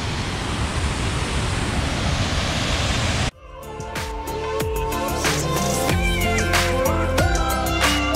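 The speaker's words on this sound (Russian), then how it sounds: "У нас в Латвии точно нет такого большого водопада." A large waterfall in Estonia roars as steady broadband rushing water for about three seconds, then cuts abruptly to a different scene where a continuous water rush sits under intermittent tonal knocks and sounds.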